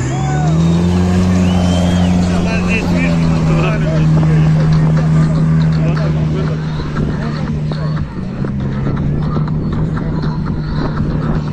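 An off-road jeep engine roars steadily at a trophy race, loud and sustained, with crowd chatter and voices over it and no clear pause.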